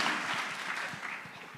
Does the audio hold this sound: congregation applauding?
yes